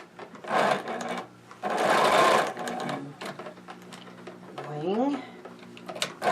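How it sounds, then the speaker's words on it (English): Two quick bursts of a sewing machine stitching a stocking seam, close and fairly loud, with a voice speaking softly around them. "I'm going to sew this from all the way to the bottom to the top."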